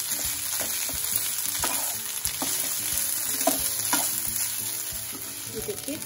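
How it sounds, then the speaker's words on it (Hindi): Hand-broken potatoes sizzle in an oiled pan as they are stir-fried for besan masala dosa, with repeated spatula scrapes and taps over a constant close hiss. "और अभी जो आलू है ये इसमें डाल देते हैं, ये मैंने हाथ से ऐसे करके तोड़ लिए थे और अब हमें इसे भून लेंगे।"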